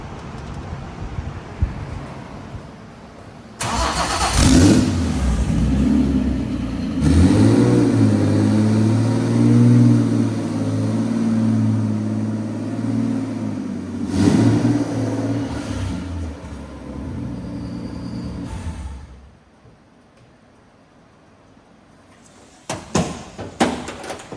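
A 700 hp pro drift car engine in a garage, running loud and close with several rising revs over about twenty seconds before it cuts to near silence, then a brief burst of noise at the end.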